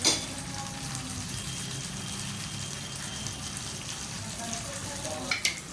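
Green chillies and peanuts frying in oil for a ridge gourd chutney, a steady moderate sizzle close by with a few light clinks near the end.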